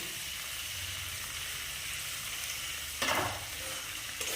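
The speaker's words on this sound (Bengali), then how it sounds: "সব কিছু একসাথে দিয়ে আবার এটাকে একটু কষতে সময় দিলাম" Potatoes for Bengali alur dom fry and sizzle steadily with spices in a pan, a soft continuous crackle with one brief louder stir or scrape near the end, no voices.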